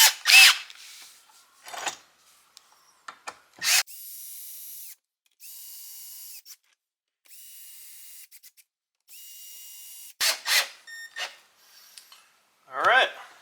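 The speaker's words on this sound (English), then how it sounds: "I'm going to use a number 3 Phillips to go ahead and fasten these down" A power driver with a number 3 Phillips bit drives screws to fasten down a recessed trolling motor tray, making several steady whirring runs of a few seconds each, close up, with brief clicks and short bursts of talk around them.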